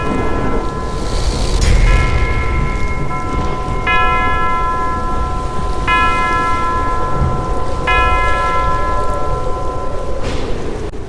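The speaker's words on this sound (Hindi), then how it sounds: "क्लॉक ने पूरे 13 घंटे बजाए हैं।" A wall clock strikes repeatedly during a storm, its bright metallic chimes ringing out at steady intervals about every two seconds over a continuous roar of rain and wind.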